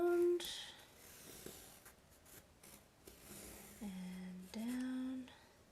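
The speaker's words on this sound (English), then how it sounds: "I'm going to trace" A pen or pencil traces around a template on paper while making library card pockets, producing light, intermittent scratchy strokes close by, broken up by short voiced sounds.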